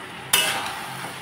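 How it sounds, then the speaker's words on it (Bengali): A pot lid lifts off a pan of cooking drumstick vegetables, a sudden clatter followed by a sustained hiss of sizzling that slowly fades, heard alone without voices. "15 মিনিট পর ঢাকনা খুলে দিলাম"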